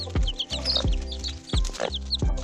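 A hen squawks in repeated harsh bursts while pecking hard at a chick, with sharp pecking taps and a cluttered barnyard backdrop of chick peeps close by.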